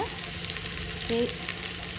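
Onions and tempering spices frying in oil for a bitter gourd dish give a steady, close sizzle throughout, with a brief faint tone partway through.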